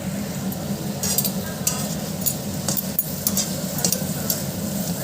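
Pabda fish fries in a pan with a continuous sizzle, broken by repeated sharp clicks and scrapes of a utensil against the pan.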